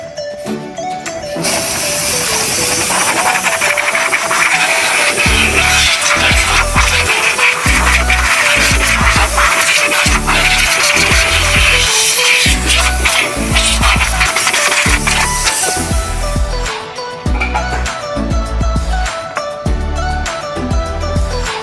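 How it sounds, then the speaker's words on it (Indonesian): Compressed air from an air gun blasting over drum brake parts, a loud sustained hiss broken into bursts, with rhythmic low thumps underneath in the second half. "kita semprot menggunakan air gun"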